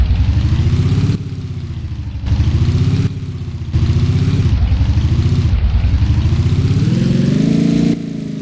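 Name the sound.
MT-07 motorcycle engine stock sounds in Roblox video game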